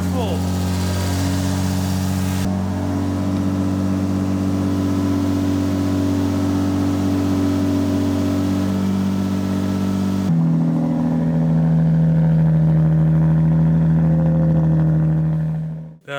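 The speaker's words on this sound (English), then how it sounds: "the echo in this garage is insane with this loud exhaust" A Lexus IS200 engine revs and idles with a loud, booming exhaust that echoes inside a garage, the pitch shifting as the throttle changes.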